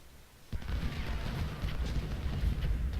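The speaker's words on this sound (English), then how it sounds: "that's the artillery that I was trying to find earlier" Distant, continuous rumbling artillery fire in the Civil War strategy game Ultimate General, a dense low roll of booms starting abruptly after a brief quiet and continuing steadily.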